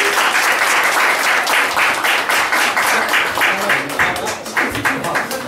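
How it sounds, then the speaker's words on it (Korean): Sustained applause from a lecture audience welcoming a Cambridge sociology professor at a talk on labour politics, dense steady clapping that stays loud throughout and tapers slightly near the end. "큰 박수를 모시면 좋겠습니다."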